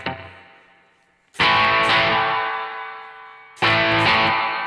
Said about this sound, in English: maybe I want that to be a tube screamer